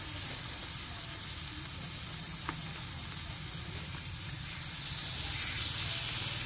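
Pork sizzling on a Thai moo kata grill, a steady close crackling hiss that grows slightly louder toward the end.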